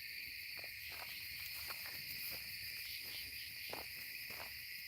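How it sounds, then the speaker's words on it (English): Dense, continuous high-pitched cricket chirping fills the air, a steady shrill drone with faint scattered clicks and rustles beneath. "Sounds like crickets."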